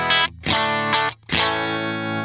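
Distorted electric guitar chords, played through an HX Stomp preset with reverb off, strummed in short, dry stabs that cut off cleanly, with no lingering tail.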